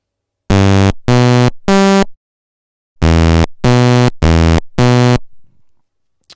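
maxYMiser SyncBuzzer synth tones from a tracker-style chiptune tool: seven loud, harmonically rich buzzy notes in two groups of three and four, each about a third of a second, ending with a faint tail.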